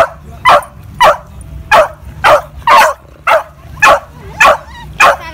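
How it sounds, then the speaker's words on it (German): A dog barks nine times in an even, evenly spaced rhythm, each bark loud and close, with quiet background between them and no talk. "Du kannst ja den Hund nicht rufen. Jetzt brüllt er wieder."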